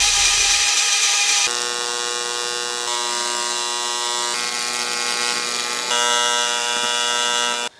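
A TIG torch welding aluminum for a Land Rover Discovery tailgate kitchen build, giving a steady harmonic electric buzz that runs in several long stretches broken by brief pauses, with a faint hiss.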